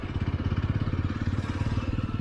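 A motorcycle engine runs steadily in a low, pulsing throb while the bike rides along, close and fairly loud throughout, with no one speaking.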